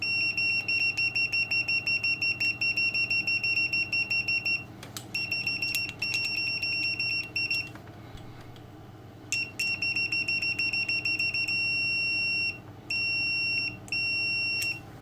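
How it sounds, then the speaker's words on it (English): Continuity beepers on Hioki DT4256 and DT4261 multimeters sound steady, loud, high-pitched tones, switching on and off in repeated bursts with brief gaps and stutters between them. "Both multimeters need 30 ohms or lower resistance to beep, which is perfect."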